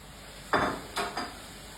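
Pepper dropped into a hot pot to fry for gbegiri soup: three short bursts of sizzling spatter, the first loudest, each dying away quickly over a quiet kitchen background.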